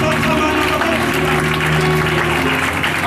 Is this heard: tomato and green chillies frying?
no